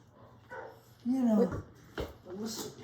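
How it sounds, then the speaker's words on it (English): A dog barks and whimpers indoors in a few short yelps and a louder bark, overlapping with people talking nearby. "Is my dog just barking?"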